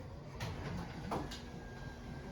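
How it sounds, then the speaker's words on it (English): A door closes inside a cluttered garage, with a soft bump followed by a sharper knock and a brief creak against a quiet room background. "and then I close the door"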